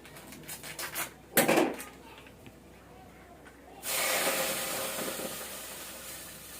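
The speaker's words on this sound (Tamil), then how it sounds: "இப்போ நம்ம 1 லிட்டர் ஃபுல் கிரீம் பால் ஊத்திக்க போறோம்." Full cream milk is poured into a pan for a payasam, a brief clatter of the pan followed by a sustained, splashing pour that runs on to the end.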